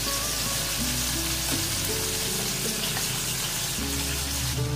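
Stuffed mushrooms filled with ground beef frying in a pan, giving a continuous loud sizzle with crackling bursts heard up close and no voices.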